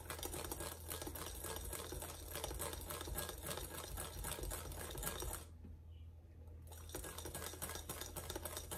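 Hand mixer whipping instant coffee, sugar and water into dalgona foam, a steady dense motor whir with rapid rattling, cutting out for about a second before resuming, with no talk.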